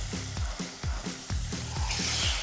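Soft tofu fries and sizzles in a hot pan with turmeric for a vegan tofu scramble. A loud, dense crackle is stirred in a quick rhythm of about eight scraping strokes, close up with no talking.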